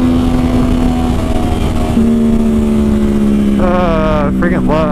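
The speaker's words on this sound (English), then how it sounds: "This is my 2009 Yamaha R1. It's a liter bike." A 2009 Yamaha R1 liter-bike engine drones loudly and continuously while riding, with a steady pitch that shifts slightly; someone talks over it toward the end.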